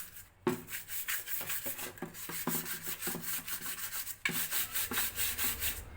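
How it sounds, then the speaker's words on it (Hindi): A brush scrubs grime inside a washing machine with hard pressure, giving repeated rasping strokes in an uneven rhythm. The strokes are close and moderately loud, with no voices. "अब आप ये ब्रश की आवाज़ सुनकर ही समझ जाएंगे कि मैं इसको कितना वज़न देकर दबा दबा कर ये ब्रश इसमें घुमा रहा हूँ"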